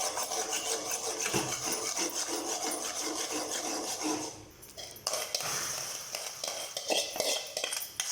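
Sago halwa being stirred in a pan on the stove: a steady scraping and rubbing of a spoon against the pan, continuous and close, with brief softer pauses midway, no voices.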